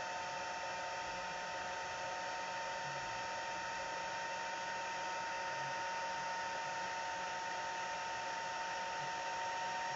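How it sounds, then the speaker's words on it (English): A heat embossing tool blows hot air with a steady, unbroken whirring hum for the whole stretch, held at a constant level with no talking. "I do love a bit of heat embossing."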